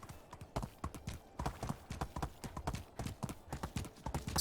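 A horse's hooves clip-clop in the medieval life-sim game Medieval Dynasty, a steady quick rhythmic walk of crisp close hoof strikes throughout.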